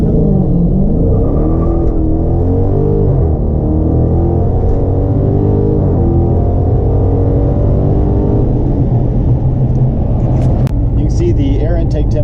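A tuned car accelerating hard and pulling through its gears, engine drone rising in pitch and dropping at each shift, loud and steady throughout with speech-like tonal bands riding on the engine.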